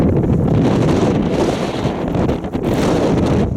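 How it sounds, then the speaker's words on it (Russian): Loud, steady wind blasts across the microphone, a dense roaring rumble that barely lets up for the whole stretch. "Ветер очень сильный."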